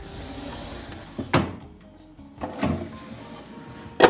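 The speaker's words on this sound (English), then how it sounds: "Check out the hidden compartment in this lower drawer." A lower desk drawer with a hidden compartment slides and knocks through several quick wooden opening and closing movements, each a short bump or scrape, heard close with no talking.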